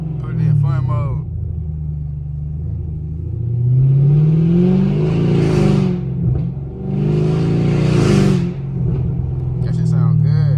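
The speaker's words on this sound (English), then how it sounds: "Hey, this Camaro sound like Donald, boy." Chevrolet Camaro SS V8 engine revving loudly on the street in swelling bursts, with a steady deep rumble between revs and people talking over it.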